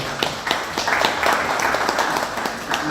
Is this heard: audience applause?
yes